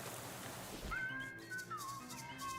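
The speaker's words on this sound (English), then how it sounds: "Not the whistling!" Whistling from the video game Shadows Over Loathing: a single clear, gliding whistled tune that starts abruptly and wavers up and down over a soft background bed, with no talking.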